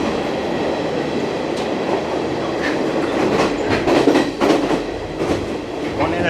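A passenger train on the Colombo to Kandy line in Sri Lanka, heard from inside the carriage: a loud continuous rumble with clickety-clack wheel beats and rattling, which swells briefly as the car jolts along the rails.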